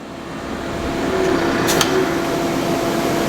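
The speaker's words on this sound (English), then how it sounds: "we open that one up and we can hear the air flowing now" Compressed air hisses steadily through a machine's air line after its valve is opened, a continuous broadband rush with a faint mechanical hum underneath and one brief brighter burst midway.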